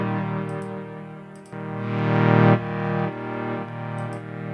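A tri-mode delay plugin processing a sustained synth tone with chorus, echo and reverb, the pitch held steady while swelling layers of repeats thicken and fade, ending in a smeared, shimmering tail; no voices.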